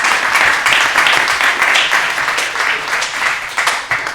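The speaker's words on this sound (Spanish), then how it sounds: "Os pido un aplauso." An audience at a legal-tech event claps in a sustained round of applause, dense and fairly loud, with slight swells in intensity throughout.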